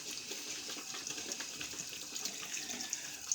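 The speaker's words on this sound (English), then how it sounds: "Let me just give a rinse to the brush here." Tap water running over a shaving brush at a sink, a soft, steady splashing flow that stays faint and even throughout.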